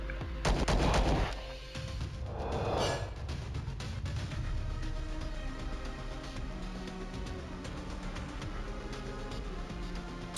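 Gunfire in the video game Star Traders: Frontiers, a loud heavy shot at the start followed by a second burst, then a lingering low rumble and faint background game sounds.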